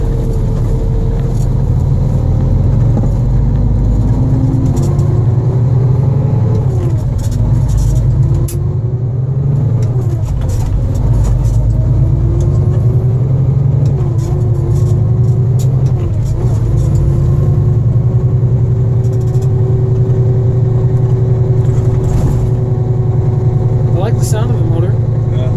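A semi truck's 5.9 Cummins diesel engine at high idle, heard from inside the cab as a steady, loud, low rumble that barely changes for the whole stretch.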